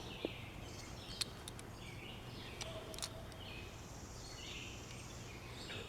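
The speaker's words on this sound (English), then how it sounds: "That's why you hear so many beautiful birds." Many birds sing and chirp in the early morning, faint and distant, with scattered calls and tweets over a soft outdoor hum.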